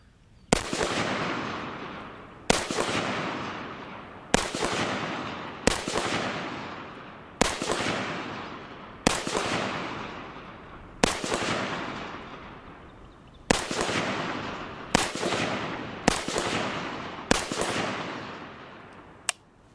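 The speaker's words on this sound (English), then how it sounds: "Making offhand shots at 100 meters is very easy, and I will just let the gun do the talking here." Offhand shots from a Galil rifle at a 100-meter range, about ten sharp, loud reports spaced roughly two seconds apart, each followed by a rolling outdoor echo that fades before the next shot.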